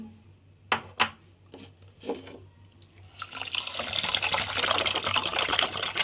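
Water poured into a pan with sugar to make syrup for almond halwa, arriving after a few soft knocks as a steady, close splashing pour that continues to the end.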